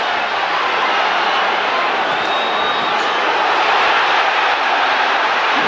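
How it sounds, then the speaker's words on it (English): A big Manchester crowd at the Nigel Benn versus Chris Eubank rematch, a boxing event, roars in a dense, steady wash of cheering that stays loud throughout. "the Manchester crowd are enjoying that too"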